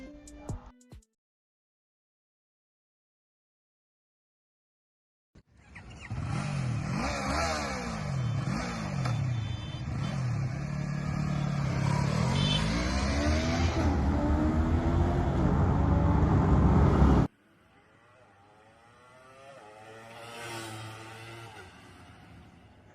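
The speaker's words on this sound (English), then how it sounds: "After this, we tested the first gear and second gear challenge of the bike." A Yamaha YZF R3 motorcycle accelerates hard through first and second gear, the engine note climbing in rising sweeps to a sustained high scream. It then cuts off abruptly, and a fainter pass follows. Brief silence comes first, and no talk is heard.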